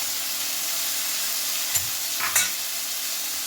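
Chopped spring onion whites sizzle steadily in a hot pan while chicken Manchurian is being made, with a continuous close hiss and a couple of brief stirring clinks.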